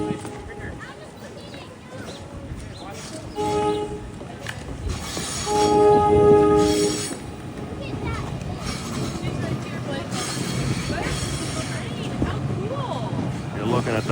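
A Princeton Dinky Arrow MU train at Princeton Junction sounds short horn blasts amid rail yard noise and rumble, with a brief louder burst midway and people talking in the background.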